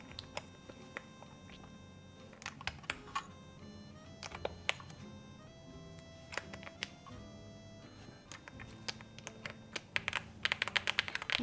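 Typing on a keyboard with LeoBog switches, a run of crisp, fairly high-pitched clicks at an irregular pace, close and clear, with a denser burst of keystrokes near the end and no talk.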